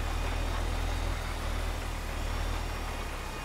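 A tractor engine drones steadily in Farming Simulator 15, a continuous low rumbling hum with no change in pitch. It is heard alone, with no talking.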